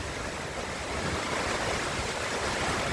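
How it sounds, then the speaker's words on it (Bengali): Steady, roaring wind with a dense wash of rain or surging water from Cyclone Remal, loud and continuous throughout with no voices. "অনেক ঝড়, অনেক বাতাস, অনেক বৃষ্টি হচ্ছে।"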